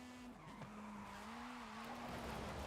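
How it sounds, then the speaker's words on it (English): Tires skid and squeal as a race car drifts in a video game, a sustained wavering screech over a steady engine drone that grows slightly louder toward the end. "I was gonna see if I could drift around the whole thing"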